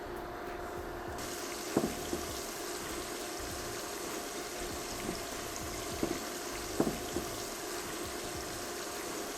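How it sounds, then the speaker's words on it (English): Breaded shrimp frying in small batches in hot oil, a quiet continuous bubbling sizzle with a few soft clinks of tongs or pan scattered through it, and no speech. "continuing to work in small batches, repeat the process until all of your shrimp is fried"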